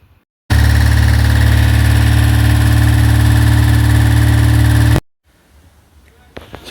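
A supercharged Fiat 500 engine starts up and runs steadily, a loud, even idle with strong low rumble lasting about four seconds before cutting off abruptly, followed by faint background noise.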